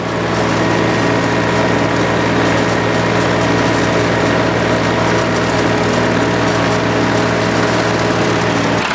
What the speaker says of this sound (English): Going backward to lift that up a little bit more. And taking that ridge out of there. Mowing is slow.